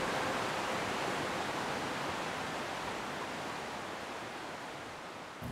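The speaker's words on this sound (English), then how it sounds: "Yes, a creek runs through Grass Valley." Wolf Creek in Grass Valley rushes in a steady broadband hiss of flowing water, even and unbroken from start to finish, fairly soft and alone.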